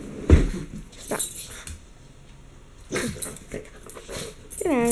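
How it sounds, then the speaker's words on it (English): A dog gives a few short whines and yelps close up, with scuffling and jingling between them, ending in a rising whimper. "Come on in before you start barking"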